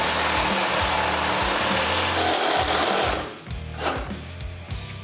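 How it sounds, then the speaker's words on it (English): A saw cutting through the frame of a 1972 Chevrolet C10 truck, giving a loud, continuous, rhythmic rasping close by that eases off partway through into rougher, intermittent strokes. "we can start cutting our frame"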